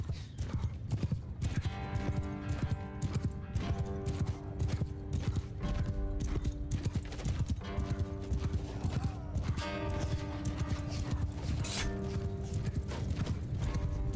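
Horse hooves clip-clop in a fast steady rhythm throughout a battle in Mount & Blade II: Bannerlord, with a neigh or whinny breaking through over busy clattering battle noise and a low rumble.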